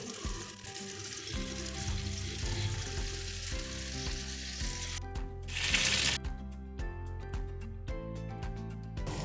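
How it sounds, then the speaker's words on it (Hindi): A spoonful of homemade butter tempering poured over onion keema gives a steady, close frying sizzle all through, with a brief louder hissing burst partway along and a faint background hum. No one speaks. "अब मैं इस पे मक्खन का बघार करूँगी।"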